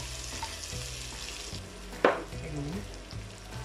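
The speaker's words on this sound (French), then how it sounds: "J'ajoute l'huile. On va mettre les oignons, le poireau" Onions, leek, garlic and potatoes fry in oil in a saucepan over medium heat, a faint, even sizzle with one brief clatter from a utensil partway through.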